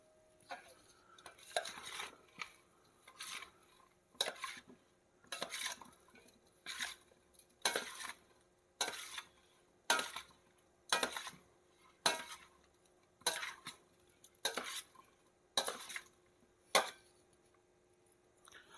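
Cauliflower pickle with oil being mixed by hand in a container, giving repeated scraping, stirring and clinking bursts at a steady rhythm, close and moderately quiet, with no talking.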